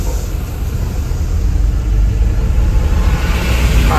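A car in traffic at Mangaon, heard as a loud, steady low engine rumble with road noise throughout, close and unbroken, with no voices.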